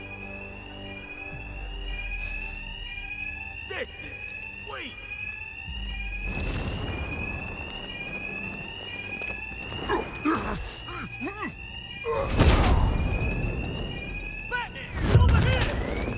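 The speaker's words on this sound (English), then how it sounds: "My attacks will be covered by the noise of the alarm." A fire-style alarm rings steadily through a Batman: Arkham Knight game scene, repeating in rising electronic tones, while people talk over it and heavier impacts and crashes burst in near the end.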